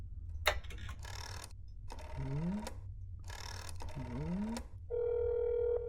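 A telephone in the video game That's Not My Neighbor rings in two repeated bursts of warbling electronic tones, followed by a steady dial tone under a low background hum.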